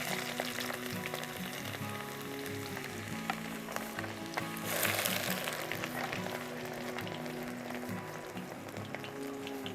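Mustard seeds splutter and crackle in hot sesame oil on a stove while a homemade beef pickle is prepared: a continuous, dense sizzle at moderate level over a faint steady background hum.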